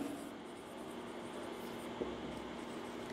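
Marker or chalk scratching across a classroom board, a steady continuous drawing sound with one brief tap partway through, fairly faint with room hiss behind it and no talking.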